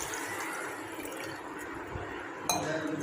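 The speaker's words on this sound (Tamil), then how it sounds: "இப்போ நான் தண்ணி ஊற்றி" Water poured over soaking rice and green gram for pesarattu dosa batter gives a steady liquid rush with faint clinks of a vessel, a brighter splash near the end, no talking.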